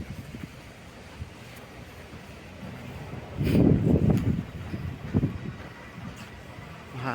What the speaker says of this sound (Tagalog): Mahangin, medyo mahangin.